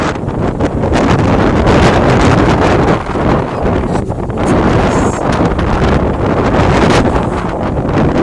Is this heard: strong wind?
yes